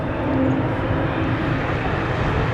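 Boeing 787 Dreamliner jet taking off on runway 23 at Toronto Pearson airport, a loud, steady roar of engine thrust filling the whole stretch with no voices.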